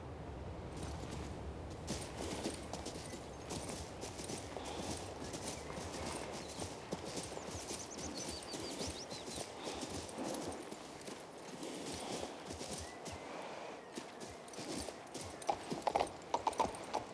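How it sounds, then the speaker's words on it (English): Horse hooves clip-clop steadily in Kings Bounty II, a continuous rhythmic trot under a busy game soundscape of ambient noise and faint mechanical clicks, with a brief sharper flurry near the end. "Oh, horse."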